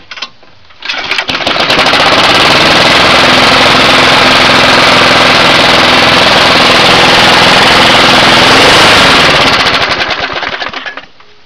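A Briggs and Stratton 450 series lawn mower engine fires up after a short start attempt and runs loud and close with a fast, rattling putter for several seconds before winding down.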